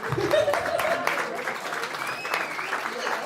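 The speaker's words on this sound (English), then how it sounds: "Keep clapping. Keep clapping." Audience clapping at a storytelling event, dense continuous applause from a crowd with some voices and cheering mixed in, steady and fairly loud throughout.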